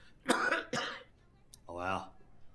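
A man coughs sharply twice, then clears his throat with a rough, drawn-out rasp, close and fairly loud, in a village film scene.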